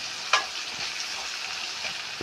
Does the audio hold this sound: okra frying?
yes